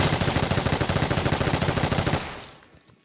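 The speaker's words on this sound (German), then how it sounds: "Schieß nochmal drauf." Rapid video game gunfire, a loud, steady automatic burst of evenly spaced shots lasting about two seconds, then a fading echo and near silence.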